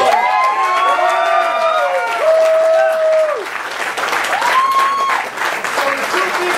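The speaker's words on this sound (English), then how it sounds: "How about a round of applause?" A crowd at a political rally claps loudly and steadily, with cheers and whoops rising over the applause throughout.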